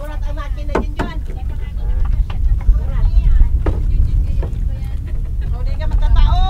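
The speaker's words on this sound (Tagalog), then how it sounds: "Burat ang makina din dyan." A boat engine roaring steadily during island hopping off white-sand beaches, a loud low drone running throughout beneath people chatting and shouting over it.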